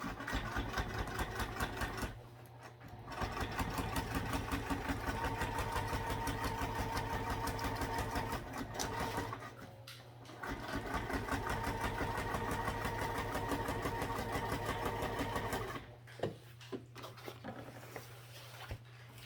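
A home sewing machine runs in steady stitching bursts along the sides of a sewing project, stopping briefly for the needle-down pivots at the corners, with a constant motor hum underneath and no talking.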